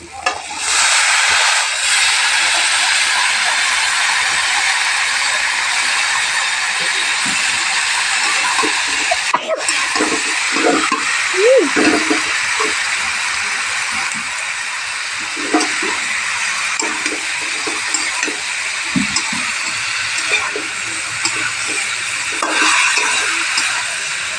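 Vegetables drop into hot oil with fried spices for a vegetarian lunch curry, setting off a steady, loud sizzle with occasional stirring scrapes and no talking.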